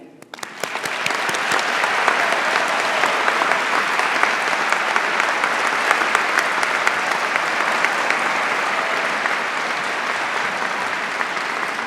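A graduation audience at Swinburne gives steady, dense applause that swells quickly at the start and holds at an even level throughout.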